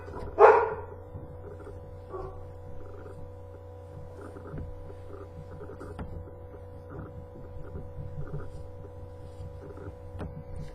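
A single short dog bark near the start, then a steady low hum with faint scattered knocks and no further barking.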